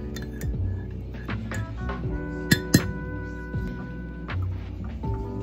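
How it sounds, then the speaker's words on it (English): A utensil stirs in a pot, with scattered metallic and glassy clinks and two sharper knocks midway, close up over a low steady background hum. "And then I stir this a little bit."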